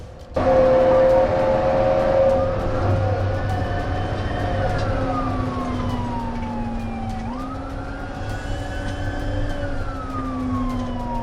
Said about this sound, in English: The driver immediately accelerated, overtaking vehicles in a no-passing zone and ignoring all police signals.